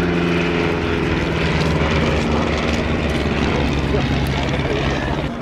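Great War biplanes, an Avro 504, a B2C and SE5As, drone past at an airshow in a dense, sustained propeller roar that fills the scene, with faint commentary underneath.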